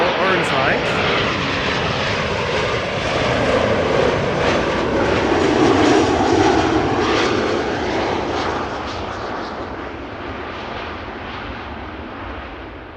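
An airliner landing at Amsterdam Schiphol Airport applies reverse thrust, a loud, sustained jet roar that swells to a peak midway and then slowly fades, broad and rushing with no talk over it.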